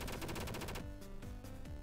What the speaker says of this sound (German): Na, da haben aber nicht alle Schüsse getroffen.